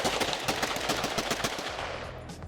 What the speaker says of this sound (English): Joey's letting me shoot his Glock.